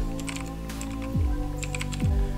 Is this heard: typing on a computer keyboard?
yes